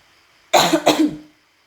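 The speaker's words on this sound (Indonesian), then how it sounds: "sorry ya, saya batuk" A pair of quick, harsh coughs close to the microphone, breaking a short silence before trailing off.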